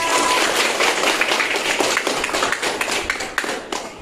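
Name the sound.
classroom applause, children clapping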